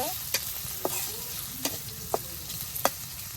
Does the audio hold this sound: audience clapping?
no